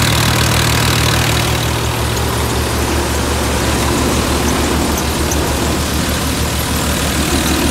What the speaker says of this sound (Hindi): ट्रैक्टर पर किसी भी प्रकार का कोई दबाव नहीं